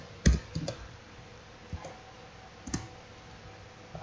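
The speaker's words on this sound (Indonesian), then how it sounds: "Kemudian kata sandinya ini bebas, kita ketikkan." Several sharp key clicks from a computer keyboard as a password is typed during a Linux Debian installation, a few quick taps then sparse single presses, fairly close and clear with no talk.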